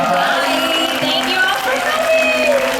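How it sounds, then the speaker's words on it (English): A convention panel audience gives a round of applause, a dense wash of clapping mixed with cheering and voices, steady and close for the whole moment. "one more round of applause for the..."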